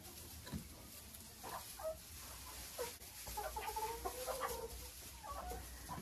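Hens cluck in a chicken coop fitted with nest boxes and egg collectors, a soft, scattered chorus of short clucks and murmurs at close to medium range, continuing throughout.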